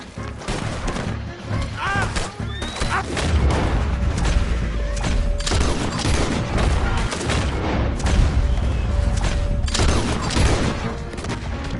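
Dense, loud bursts of gunfire fill a Red Dead Redemption 2 shootout, with rapid overlapping shots and heavy booms continuing throughout, and shouting voices mixed into the chaos.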